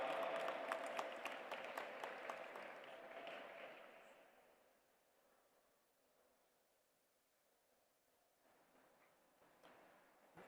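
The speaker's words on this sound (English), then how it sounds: "Please put your hands together and welcome with a big round of applause" Audience applause welcoming a speaker at an interfaith summit, a steady wash of many hands clapping for about four seconds, then fading into a quiet room.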